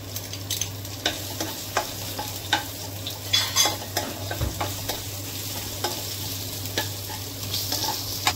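Ginger and garlic sizzle in a hot pan while a spoon stirs and scrapes, a steady frying hiss broken by frequent clinks against the metal, close and continuous.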